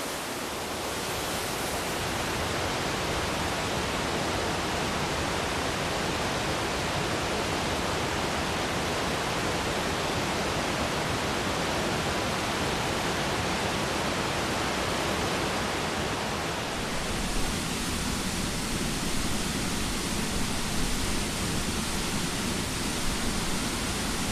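A waterfall on a ridge in Kazakhstan pours in a steady, loud, broadband roar that fills the whole stretch, close by and alone, with the tone shifting slightly near the end.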